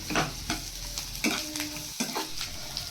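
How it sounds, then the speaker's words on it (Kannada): Mixed vegetables and half a capsicum frying in oil for shavige bath, a continuous close sizzle broken by several quick rhythmic stirring scrapes of a spoon against the pan. "ಲಾಸ್ಟಲ್ಲಿ ಒಂದು ಅರ್ಧ ಕ್ಯಾಪ್ಸಿಕಮ್ನು ಕೂಡ ಹಾಕಿ ಫ್ರೈ ಮಾಡ್ಕೊತಾ ಇದ್ದೀನಿ"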